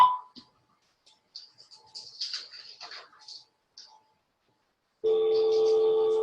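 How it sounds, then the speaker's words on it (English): A telephone line plays the tone signal for a number that is not in service. Faint chirps and scattered noise come first, then a loud, steady multi-tone begins abruptly near the end. "the number you have dialed is not in service at this time"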